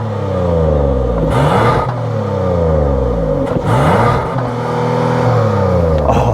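Kia Telluride X-PRO with a non-turbo V6 revving through its exhaust, several loud close rises and falls in pitch, with no talking.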